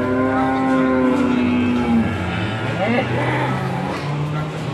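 Malbor cattle at a cow farm moo loudly and close by, with long, drawn-out calls followed by lower, wavering lowing.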